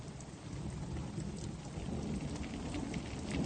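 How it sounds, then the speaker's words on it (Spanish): A heavy thunderstorm pours down rain in a dense, steady roar, with low rumbling thunder building toward the end and no voices. "y la tormenta apagó las llamas"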